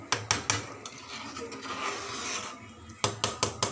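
Besan curry with pakoras is stirred in a pot: a spoon knocks against the pot several times at the start and end, with a soft, low bubbling and scraping sound between.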